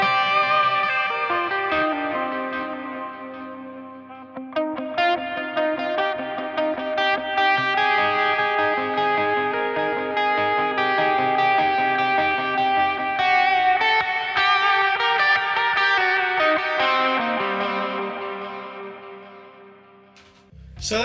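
An electric guitar played through an Aalberg Audio MOON wireless rig controller after switching back to a clean tone: sustained chords and melodic notes with a ringing, effect-washed ambience, loud and continuous, with no talking.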